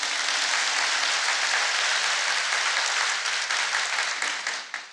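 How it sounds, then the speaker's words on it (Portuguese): Church congregation applauding during a sermon, a dense steady wash of clapping from many hands that holds for several seconds and tapers off at the end, with no talk over it. "Você pode dar uma salva de palmas?"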